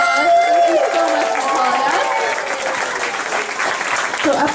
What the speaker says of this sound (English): Let's give her one more big round of applause.